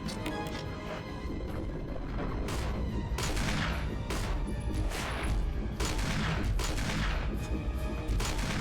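Rapid bursts of gunfire in a Resident Evil survival-horror game, dense and loud with repeated sharp shots and crashes layered over a busy game soundtrack throughout.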